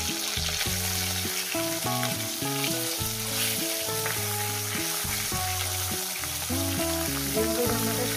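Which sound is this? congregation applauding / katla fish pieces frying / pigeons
katla fish pieces frying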